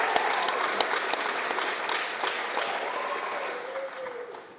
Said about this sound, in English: One more round of applause for Tara.